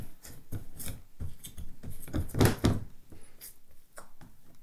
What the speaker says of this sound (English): it's a matter of just using your hands to spread it to fill the pan